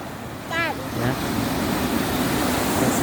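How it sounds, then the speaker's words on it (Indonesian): Indian Ocean surf on the southwest coast at Meulaboh, Aceh, makes a steady, broad rushing wash. A brief whistle-like chirp cuts through early on. "ini laut pantai barat selatan, Samudra Hindia"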